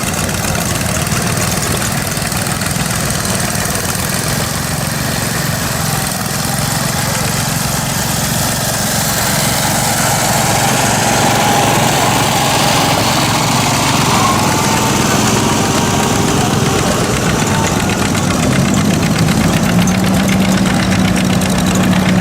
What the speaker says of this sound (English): Here comes a little, we'll call it a garden tractor.